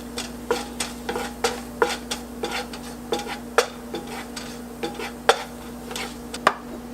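Cumin seeds crackle and sizzle in two tablespoons of hot oil in a pan, with a busy run of sharp pops and clicks over a steady frying hiss, while a utensil stirs and taps against the pan.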